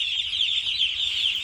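Broiler chickens at a Dhaka poultry market cluck and squawk in a dense, continuous flock chorus, loud and close, with a steady high-pitched din and no talk.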